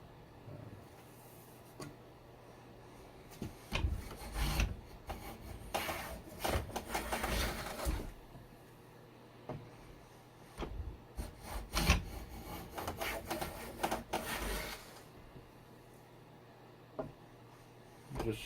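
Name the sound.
hand planing a maple board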